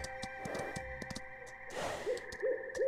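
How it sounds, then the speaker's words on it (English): An owl hoots softly in swamp ambience in the video game Citadel Forged With Fire, several short hoots in quick succession over a quiet bed of insect and frog sounds. "The frogs and the owl hooting."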